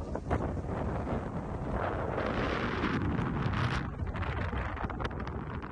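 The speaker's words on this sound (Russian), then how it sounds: "Ветер поднял. Да, ветер сильный." Strong wind buffets the microphone at a high lookout in Rõuge, Estonia, in loud, continuous gusts, a broad rumbling roar that swells and dips without pause.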